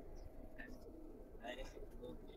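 Female pigeon cooing softly in a loft, a few low murmuring coos amid steady background noise and quiet handling, with people talking nearby.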